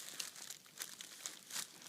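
Crinkling plastic and packaging being handled while a JVC KW-R700BT car stereo is unboxed, short close rustles and crackles in a few bursts, faint and with no talking.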